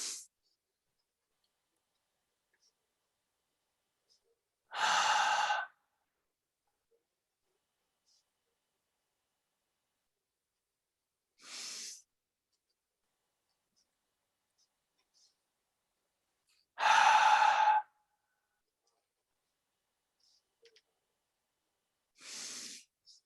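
Slow, controlled box breathing: four loud, airy breaths spaced about six seconds apart, each separated by silent holds.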